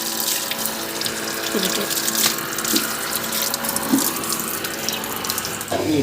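Hot water gushes from a motor-pumped tap as someone washes hands and face at a sink. The loud, close, continuous rush of water has splashes and shifting spatter throughout.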